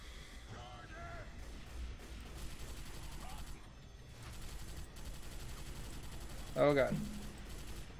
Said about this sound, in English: Man, I love the Stormtrooper rifle. They changed the sound too, and it sounds so good.